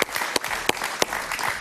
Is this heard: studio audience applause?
yes